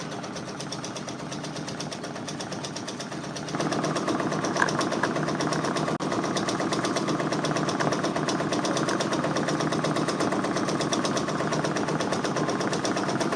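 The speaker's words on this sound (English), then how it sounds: "If you guys can hear that machine stitching, go ahead and give me a 1 in the chat." Computerized embroidery machine stitching out a Drake patch, a steady rapid mechanical chatter that grows louder after a few seconds and then runs continuously at close range with no talking.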